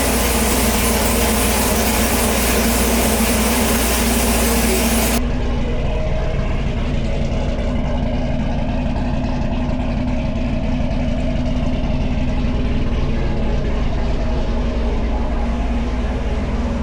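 A 1000+ horsepower Camaro engine, freshly swapped in, idles loudly and steadily nearby with a deep, constant rumble and a hissing wash of noise that quiets slightly partway through.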